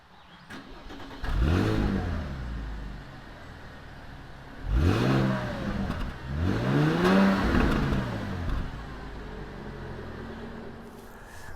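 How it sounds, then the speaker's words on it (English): A Porsche Panamera 4 engine starts and is revved from outside the car: a starter catch and flare, then two rising and falling revs, loud and close, settling into a steady idle. "the car leaps into life. Sounding like this from the outside."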